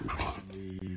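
A German Shepherd throwing a tantrum lets out a short, close growling bark with a rough, voiced tone, lasting about a second.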